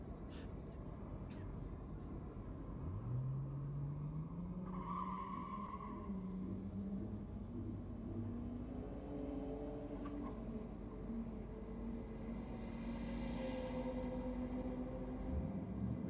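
At Sydney Dragway, a drag racing car makes a distant run with a droning engine note that climbs over a steady wash of background noise, while a commentator talks over the sound.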